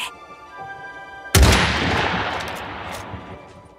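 A single rifle shot in the World War I-era strategy game Iron Harvest, a sudden loud crack with a booming tail that rings and fades for over two seconds after a quieter lead-in.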